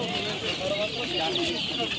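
Chickens cluck steadily at a busy poultry market, a dense farmyard chatter of hens and roosters close by, with people talking in the background.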